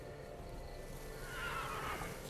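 A unicorn, a horse in The Witcher 3 video game, gives a drawn-out whinnying neigh over quiet background ambience, fairly soft and alone with no talk.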